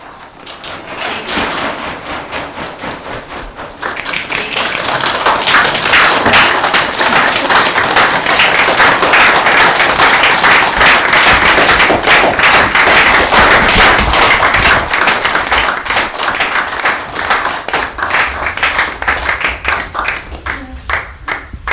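An audience at a live performance breaks into dense, loud clapping that swells after a few seconds, holds steady with many overlapping hand strikes, then thins slightly toward the end.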